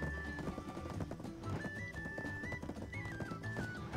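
Many horses in a large Black Desert video game horse race, a dense, continuous clatter of hooves with a thin melodic tone running over it, steady and moderately loud throughout.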